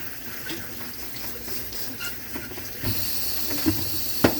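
Steady water from a sink sprayer hissing over produce being rinsed, a continuous rushing spray with a few louder splashes and knocks toward the end.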